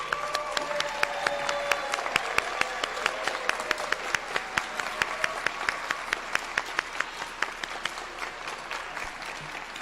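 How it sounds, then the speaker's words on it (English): Audience applause at a nursing pinning ceremony honoring newly inducted nursing students, a steady wash of clapping hands with sharp individual claps standing out, sustained for about ten seconds at moderate volume. "accept a round of applause for being inducted"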